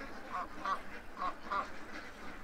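Ducks crowded into a barn corner give short quacks in small clusters, fairly close, over a dull steady background with no talking.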